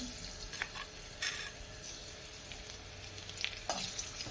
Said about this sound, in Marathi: लसूण व्यवस्थित आपण तेलावर परतून घेऊया